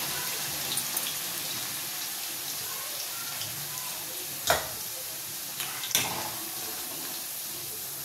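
Okra (bendakaya) fries in a pan with a soft, continuous sizzle and light crackle heard close but faint, broken by a couple of sharper clicks or stirring knocks.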